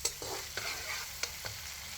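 Onions frying to a light golden colour for mutton kali mirch, a soft, low sizzle broken by several sharp stirring scrapes of a spoon against the pan.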